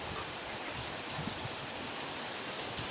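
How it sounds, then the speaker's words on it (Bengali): Steady rain falls in a broad, even hiss, close and continuous throughout with no voices. "পুরো বৃষ্টি শুরু হয়ে গেছে।"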